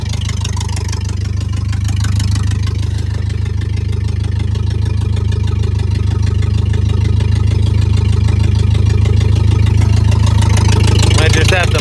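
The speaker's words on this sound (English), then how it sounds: "This thing is gnarly with no muffler." A loud engine with no muffler and a racing cam runs steadily throughout, a deep rumbling idle with a choppy lope and a brief rev near the end; a voice cheers faintly once.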